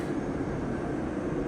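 An LRT light rail train passes nearby with a steady, loud rumbling roar that holds even throughout, with no voices over it.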